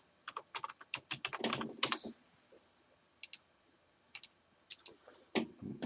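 Bursts of clicky typing on a computer keyboard, quick clusters of keystrokes separated by short pauses, close and fairly quiet with no talking.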